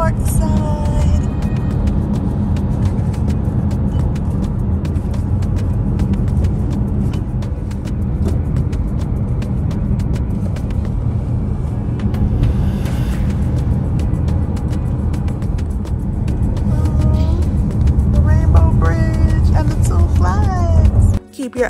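Car driving past Niagara Falls State Park on the New York side, a steady loud road and engine rumble throughout with light tire hiss, brief higher squeaks near the end.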